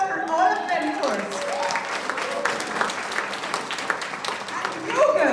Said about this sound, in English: So let me hear a big round of applause for all of them first.